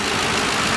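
2007 Ford Crown Victoria Police Interceptor engine idling, a smooth, steady low rumble heard close and fairly loud throughout, no talk.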